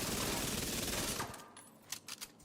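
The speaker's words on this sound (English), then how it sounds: "the SMG's hitting pretty hard" Rapid SMG fire in The Division 2 rattles as a dense, loud burst for just over a second, then breaks off into quieter, scattered impact and clatter sounds.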